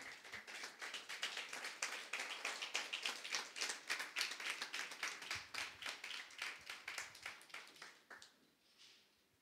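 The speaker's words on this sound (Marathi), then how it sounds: "त्यांचं टाळ्या वाजवून आम्ही स्वागत करूयात" A church congregation at a Sunday service clapping in unison to welcome a speaker, a steady rhythmic run of sharp claps, roughly two per second, close and even, then tapering off and stopping near the end.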